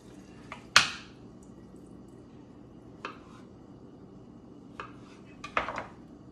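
A pan holding butter, handled on a stove. There is one sharp metallic clank near the start, then a few lighter knocks and clinks spaced out over quiet background.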